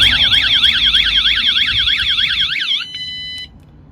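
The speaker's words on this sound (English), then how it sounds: "This turns the alarm on automatically." A loud, warbling VanGuardian van alarm siren wails in rapid sweeping cycles, then switches to a steady tone before cutting off.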